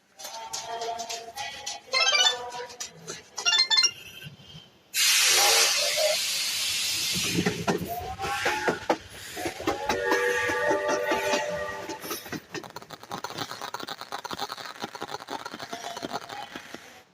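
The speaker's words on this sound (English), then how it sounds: "The train has arrived." A toy train pulls in with a sudden loud burst of steam hiss that holds for a few seconds, surrounded by tonal whistling sounds and lively background sounds.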